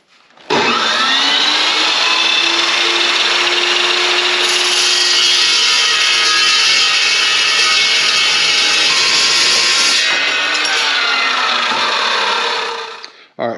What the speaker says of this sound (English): I'm going to get the saw back out and start trimming all these down